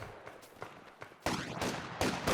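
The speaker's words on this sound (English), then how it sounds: "There's a machine gun now" Machine gun and rifle fire in the Company of Heroes 2 strategy game, scattered distant shots giving way to louder close bursts in the second half.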